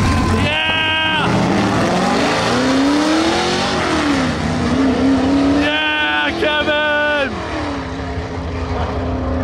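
A drag race car revs hard at the starting line and launches, with a loud, close engine roaring and rising in pitch through the gears, sharp rev spikes near the start and again later, and the engine note continuing steadily to the end.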